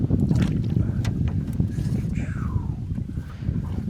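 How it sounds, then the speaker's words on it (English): Heavy wind buffets the microphone in a low continuous roar on a Wisconsin river, where people are fishing trot lines from a boat, with faint knocks and a brief voice in the background. "The wind is blowing us upriver, which is always aggravating with trot lines"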